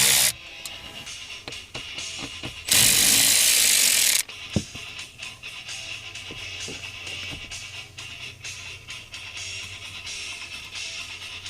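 Ratchet loosening bolts on a car's steering column, with a loud dense burst of rapid clicking partway through, then softer scattered ratchet clicks and knocks over a low background hum.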